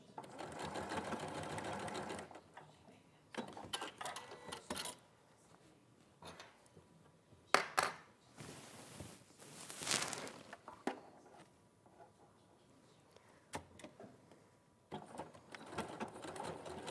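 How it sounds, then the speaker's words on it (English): A sewing machine stitching a seam from the crease to the edge at 1 cm allowance, a quiet whirring run at the start followed by short intermittent bursts, with people talking at times. "we're going to sew from the crease to the edge here on both sides"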